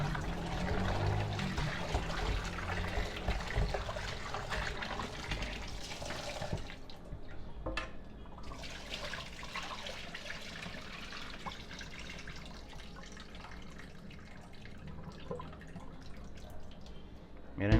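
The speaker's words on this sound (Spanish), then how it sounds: "procedo a abrir la llave una vez más y termino de enjuagar" Tap water runs continuously into a kitchen sink while raw chicken is rinsed, with splashing and dripping throughout and a brief change in the flow partway through.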